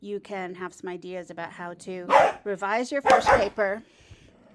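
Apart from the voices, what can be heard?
dog barking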